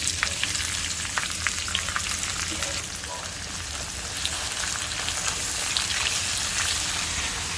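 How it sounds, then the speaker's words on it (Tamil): Chopped onions fry in a rice cooker for a village-style chicken biryani, giving a dense, steady sizzle with faint stirring scrapes throughout. "இந்த வெங்காயத்தை நல்லா பொன்னிறமாக வதக்கிக்கலாம்"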